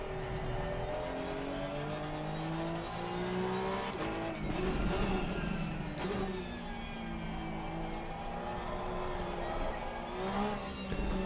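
Porsche 992 GT3 Cup race car engine in Assetto Corsa Competizione at the Nürburgring, loud and sustained with rising and falling revs, gear shifts and faint tire squeal, with a voice talking underneath.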